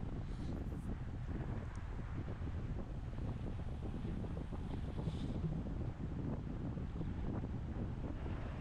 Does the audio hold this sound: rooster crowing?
no